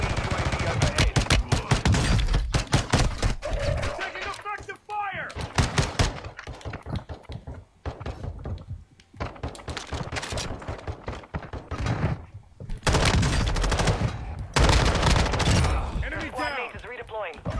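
Heavy gunfire in the video game Apex Legends, dense rapid bursts of automatic shots crackling loudly, with short pauses between volleys, then long sustained strings of fire.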